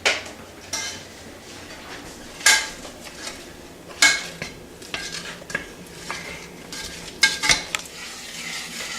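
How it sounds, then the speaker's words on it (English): A spoon stirs sugar and vinegar in a pan on the stove, scraping and clinking against the metal in irregular strokes, with a few sharper knocks standing out over a faint sizzle. "Keep stirring until the sugar crystals are dissolved."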